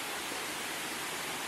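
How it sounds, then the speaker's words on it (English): Water surges up out of an old coal mine flooded deep beneath the surface in the Appalachian Mountains, a steady, soft broadband rush with no breaks, fairly quiet and even throughout. "it's pushing up all the water out of that coal mine"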